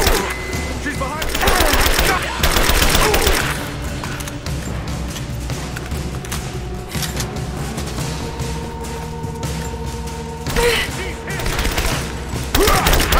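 Dense, sustained gunfire from a firefight in the video game Rise of the Tomb Raider, with bursts of rapid shots and heavier booms running throughout, close and loud, and combat voices calling out in the mix.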